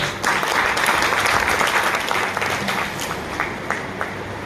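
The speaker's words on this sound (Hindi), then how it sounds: "सभी के लिए एक जोरदार ताली होनी चाहिए।" Seminar audience at an IMC business and leadership training session in Barasat breaking into loud, sustained applause, a thick continuous clatter of many hands throughout.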